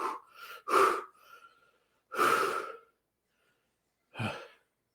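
A voice mimics a startled character's panting: a few sharp, breathy gasps and heavy exhales in quick bursts, then a pause and one last breath, close and alone without words.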